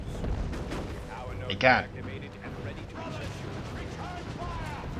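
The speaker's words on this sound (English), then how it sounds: "Scout shotguns shooting this one up." Space Marine scouts' shotguns firing in the Dawn of War II: Retribution strategy game, a sharp crack standing out from dense battle noise while a commentator talks over it.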